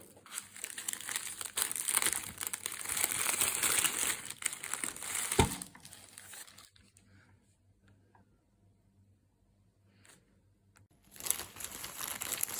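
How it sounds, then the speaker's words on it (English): Raffia crinkles and rustles loudly as it is pressed into the bottom of a box, a dense scratchy crackle that fades to near silence and then resumes briefly at the end. "So now I've put enough raffia in the bottom"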